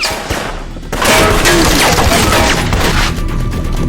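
A loud volley of gunfire erupts at a garage, rapid shots blending into a dense barrage with booming impacts and some shattering, close and intense.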